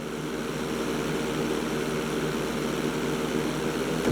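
A plane's engine drones steadily during a landing in the video game GTA 5, with an even buzzing propeller hum holding at one level throughout and no voices.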